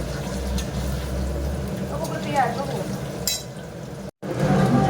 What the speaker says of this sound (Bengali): তেলের মধ্যে গোটা গরম মশলাটা দিলাম